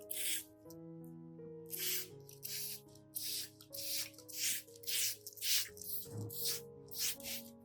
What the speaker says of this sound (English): You can apply this spraying method to the plant every 7 to 10 days